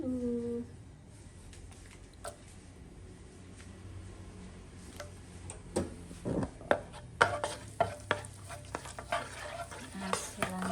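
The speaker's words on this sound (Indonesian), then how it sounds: "So pertama-tama saya mau masukkan jahe yang udah dipotong dulu." Chopped ginger frying in hot oil, a low sizzle that builds into a burst of clattering scrapes and taps from a utensil against the pan, close and fairly quiet.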